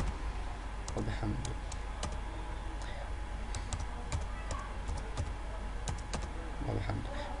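Typing on a computer keyboard while entering a title in video-editing software, with quick irregular key clicks in bursts over a continuous background hum, close and clear.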